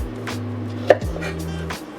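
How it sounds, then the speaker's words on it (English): A knife rough-chopping ingredients for a jerk chicken marinade on a cutting board, a few soft chops over a low background hum, with one sharper knock. "we're gonna chop that thing up into smaller pieces so the blender don't have such a hard time"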